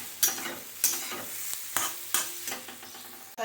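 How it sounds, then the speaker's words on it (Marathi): Spatula stirring zunka, a gram flour dish, in a pan, with scraping strokes at a steady rhythm every half second or so and a soft sizzle beneath, close and fairly loud. "आजीला काय हाताने जास्त हलवायला येत नाही त्यामुळे म्हटलं थांब आता मीच हलवते जरा"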